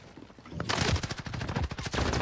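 Rapid gunfire from a sniper rifle and shotgun in Modern Warfare, a dense burst of close, loud shots in quick succession after a quiet start.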